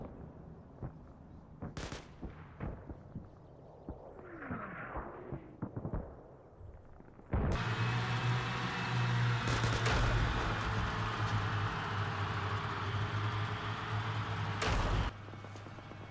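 Artillery shells land in the video game Combat Mission Cold War: a quieter stretch with scattered thuds gives way to a sustained, loud rumbling barrage of impacts that rolls on for several seconds before cutting off.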